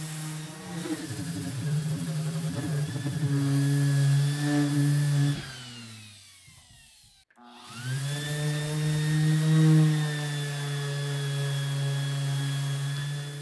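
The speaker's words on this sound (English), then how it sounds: "I can finish the sanding on this side" A power sander whines steadily with strong low hum while sanding a primed steel door, winds down to near silence midway, then spins back up and runs continuously.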